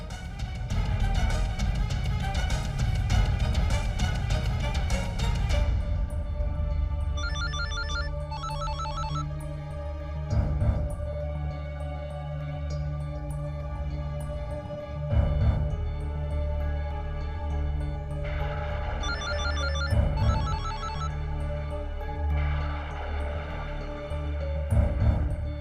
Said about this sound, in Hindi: जगत फोन क्यों नहीं उठा रहे?